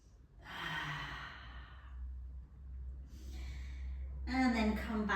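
Slow, audible yoga breathing: a long exhale, a pause, then another long breath out, ending with a voiced sigh over a low steady hum.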